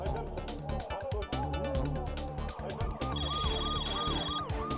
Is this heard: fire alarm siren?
yes